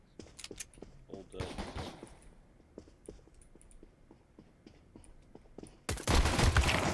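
Gunfire rattles in a first-person shooter game, with short bursts early on and a loud, dense burst near the end, under a player's speech.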